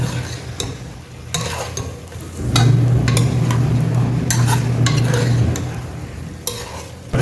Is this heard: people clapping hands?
no